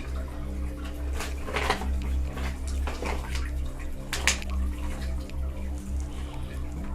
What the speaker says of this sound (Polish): Gdzieś tutaj leci woda.